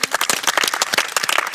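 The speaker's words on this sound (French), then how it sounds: "Donc moi, je vous applaudis." Brisk, close clapping from a small group at an opera audition, a dense patter of sharp individual claps with no voices over it.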